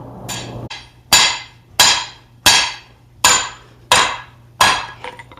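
A hammer strikes a sword blade tip on an anvil to begin a distal taper, ringing out in seven loud, evenly spaced metallic blows, each decaying before the next, close and without talk.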